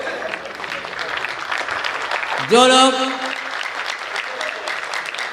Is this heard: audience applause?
yes